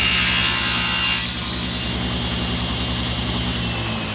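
A saw cuts a small wood piece held on a crosscut sled in a cabinetry shop, loud and close at the start, then a steady grinding rasp continuing through the cut with no talking.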